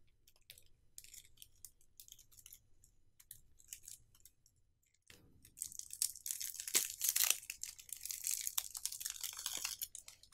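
A package being cut open during an unboxing of a MOZ Magic set: quiet scattered clicks and rustles at first, then a louder stretch of crunching, tearing and crinkling as the blade works through the packaging, close by with no talking.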